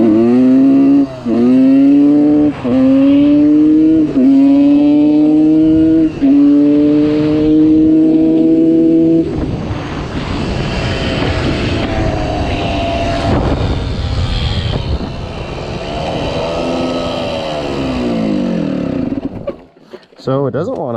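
A 30-year-old Suzuki RM125 two-stroke dirt bike engine revs steadily with rising and falling pitch, then turns rougher and noisier, running loud and close throughout; it will not idle.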